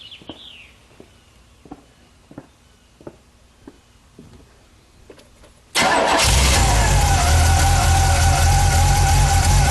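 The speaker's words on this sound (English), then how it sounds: "right now I'm going to start the car" A car with an electric fuel pump fitted in its tank cranks and fires into a loud, steady idle about halfway through, after quiet ticking and faint background sounds at the start.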